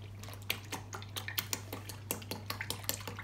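Milk poured from a container into a measuring jug while making crepes, spilling and splashing, heard as close, quick irregular splatters and small clinks with a steady low hum behind them.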